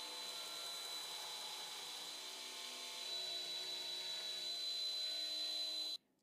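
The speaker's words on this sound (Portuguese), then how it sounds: "Preciso voltar para a retífica e empurrá-la assim." A belt grinder runs steadily while shaping a Damascus steel tanto blade, a continuous whining drone with a high steady tone that holds for several seconds, swells slightly midway, then cuts off abruptly.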